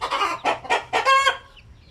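Basilan chickens cluck close by in a run of five sharp, evenly spaced calls, the last one stretched and more tonal, with no talk over them.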